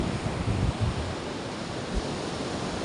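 Sea waves wash in a continuous broad roar, with wind buffeting the microphone in low rumbling bursts.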